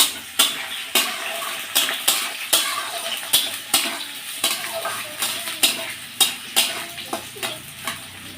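Radish sizzles in a pan with cumin while a spatula scrapes and stirs in steady, regular strokes, close and clear.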